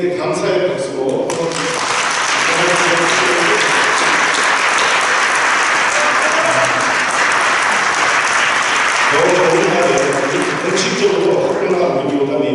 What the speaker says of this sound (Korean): 우리 그분에게 감사의 박수로